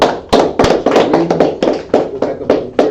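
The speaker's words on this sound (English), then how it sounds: "clap it up" A group of people clap hands together at a Sabbath service class, loud and close, in about a dozen sharp bursts that come irregularly and slightly staggered, without talk.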